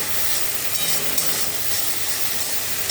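Mustard paste mixed in water hits hot oil in a pan, a dense, steady sizzle and hiss heard up close throughout.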